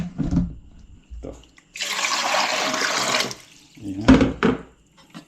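Water runs from a tap in a steady gush for about a second and a half, then shuts off, with a person talking briefly before and after it.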